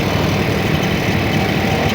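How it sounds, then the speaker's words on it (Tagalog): A petrol grass cutter engine runs close by with a steady, rough, buzzing drone throughout the short stretch. "Grass cutter."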